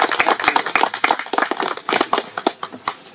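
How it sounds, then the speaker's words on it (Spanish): Applause from a gathering at a rural community field day, scattered individual claps close by with a loose, uneven rhythm, moderately loud, thinning out toward the end. "Vamos a recibir con unos cuartos de otro aplauso."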